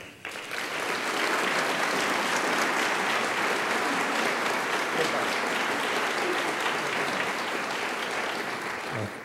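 An audience at the 2003 State of the City Address applauds Mayor Dr. Michael Chang with loud, sustained clapping that fills the room evenly and fades slightly at the end.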